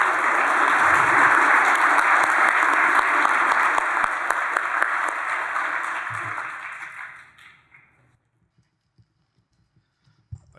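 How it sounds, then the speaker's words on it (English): Audience applause at an opening-remarks event, a sustained burst of many hands clapping that holds steady, then thins and fades to near silence, with a few stray sounds after. "let's give Megan one more round of applause"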